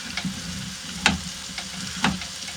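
Food sautés in a pot on a small Trangia Mini camping stove with a soft, even sizzle, punctuated by two sharp taps about a second apart.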